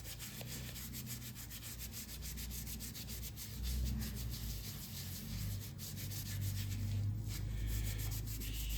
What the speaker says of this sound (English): So now let's clean this. Piece of Scotch-Brite.